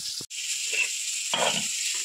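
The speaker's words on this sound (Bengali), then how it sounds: "মাছটা ভাজছি" Fish frying in a pan, a close, continuous hissing sizzle with a brief break near the start and soft stirring scrapes underneath, with no voices.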